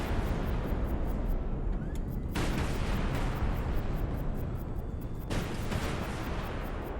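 Warship weapons firing in the naval combat game High Fleet: a dense, loud roar of gunfire and explosions that runs without a break, with sharp heavy blasts cutting in twice, a few seconds apart.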